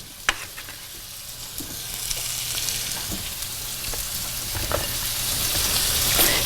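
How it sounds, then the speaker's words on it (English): Peppers, onions, sausage, bacon and tater tots frying in a skillet, a dense close crackling sizzle that builds steadily louder, with scattered sharper pops and stirring clatter. "we do peppers and onions and sausage and bacon with the tater tots and put it in the skillet"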